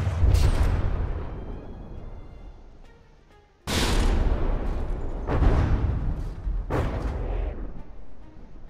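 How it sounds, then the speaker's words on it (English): A volley of artillery shells slams into the side of a warship in From the Depths, a string of heavy booming impacts: one big blast, a lull, then several loud explosive hits in quick succession with rumbling tails. "Let's track this volley of shells in. Those are going to land pretty solidly into the side."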